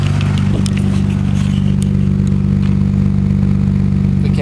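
A 1997 Nissan Skyline R33 GT-R idles through a large cat-back exhaust of about 3.25 inches with a mid resonator, giving a loud, close, steady low rumble with an even, unbroken drone.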